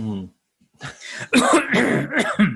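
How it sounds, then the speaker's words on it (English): A brief voice is followed by a short pause, then a cluster of several harsh, close coughs in quick succession. "I start coughing when people stand too close to me now."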